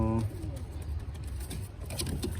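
Pigeons coo inside a pigeon loft, with soft throaty calls starting the stretch, then low bird murmurs and faint rustling close by against a steady room hum.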